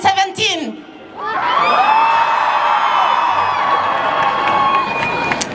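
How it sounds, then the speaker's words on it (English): A crowd at an anti-slavery demonstration in Stockholm screams loudly together for several seconds after a brief shout from a single voice, the sustained roar filling the space. "Scream as shocked as you are to see human beings being sold in Libya in 2017."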